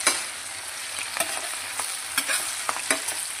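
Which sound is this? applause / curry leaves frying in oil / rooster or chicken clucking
curry leaves frying in oil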